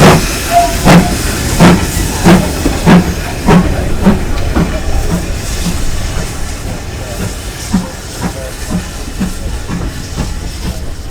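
Steam locomotive Odney Manor hisses while being serviced beneath the water tower at Bishop's Lydeard station in Somerset, with loud sharp rhythmic bursts of steam and clanking that repeat, then continue more softly beneath a steady background roar.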